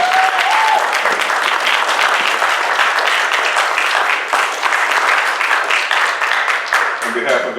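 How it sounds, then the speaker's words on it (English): Sustained applause from an audience at a Champaign community candidates forum on Black education, steady dense clapping filling the whole stretch without pause, loud and close. "Can we give our candidates a round of applause?"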